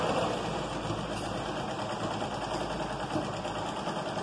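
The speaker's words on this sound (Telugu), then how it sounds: "ఇప్పుడు ఇటువైపు కూడా కుట్టు వేయాలి" A sewing machine stitches the back neck of a blouse, giving a continuous fast whirring hum with a steady mechanical rattle, close and even throughout, with no talking.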